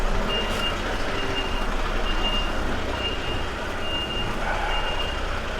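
An HGV lorry reverses with its warning alarm beeping at a steady, repeating rhythm over a constant loud diesel engine rumble, heard close from inside the cab.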